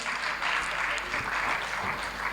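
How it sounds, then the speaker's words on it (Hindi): Listeners at a Hindi-Malvi kavi sammelan poetry recital in Ujjain clap together, a steady wash of applause at moderate level with a low hum beneath. "एक बार जोरदार ताली।"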